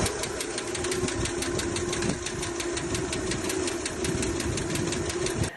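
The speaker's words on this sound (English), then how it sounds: "The thing started tapping on me really bad." A 1967 truck engine idles with its valve cover off, sticking lifters producing a rapid, even metallic tapping over the steady running drone, loud and close throughout.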